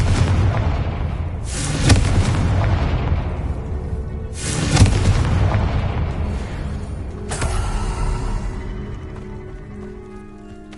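Explosive blasts from the Confringo spell in Hogwarts Legacy, three loud booms a few seconds apart, each with a sharp crack that decays slowly, over a constant background rumble of game sound.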